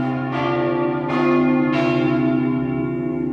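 Church bells of the cathedral bell tower in Gemona del Friuli ringing before Mass, with a sustained, resonant hum, three fresh strikes rising over the ongoing ring, fairly loud and unaccompanied.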